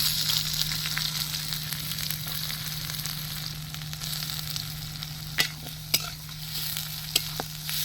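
Hot oil sizzles steadily in a kadai while frying onions for handi chicken biryani, a constant hiss at moderate level broken by a few sharp clicks and clatters of utensils near the end.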